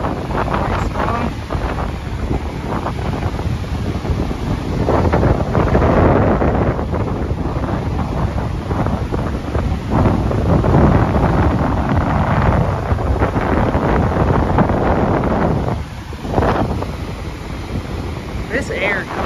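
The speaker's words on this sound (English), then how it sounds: "Wind is very strong." Strong wind from Hurricane Idalia batters the microphone on Folly Beach, a loud, continuous gusty roar with surf beneath it, swelling and easing in waves across the span.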